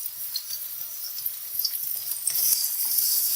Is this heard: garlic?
yes